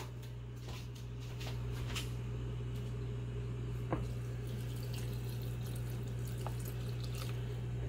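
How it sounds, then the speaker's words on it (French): Water poured over black mushrooms to soak them, a continuous soft splashing and trickling with a few drips, close by and fairly quiet over a low background hum. "j'aurai besoin ensuite de champignons noirs que je vais tremper tout de suite devant vous"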